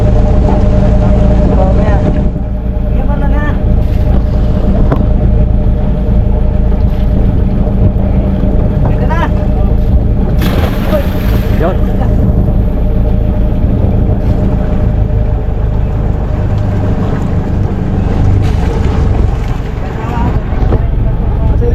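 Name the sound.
fishing boat engine at sea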